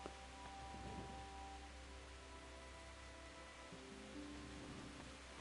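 Steady rain in the medieval game Kingdom Come: Deliverance, a constant wash of drops falling on surfaces, fairly quiet and even throughout with faint low tones beneath.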